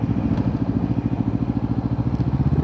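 A motorcycle being ridden, its engine running steadily close by with a rhythmic pulsing throb that stays loud and even throughout.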